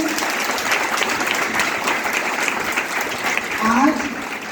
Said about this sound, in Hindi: जोरदार तालियों से एक बार स्वागत करेंगे